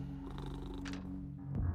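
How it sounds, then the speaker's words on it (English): A cat purring close to the microphone, a soft, rhythmic low rumble that continues steadily through the short stretch with faint background noise. "I hope the purring is not too loud."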